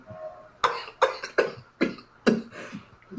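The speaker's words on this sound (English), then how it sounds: "My bad, I was coughing." Five or six sharp coughs in a row, close and loud, spaced roughly every half second with short breaths between them.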